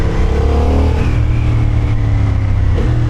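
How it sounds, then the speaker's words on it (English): Honda Hornet 750 motorcycle engine under way, a steady loud droning intake snarl with a rising pitch as it accelerates, continuous and close throughout. "it's got a pretty pronounced intake snarl too"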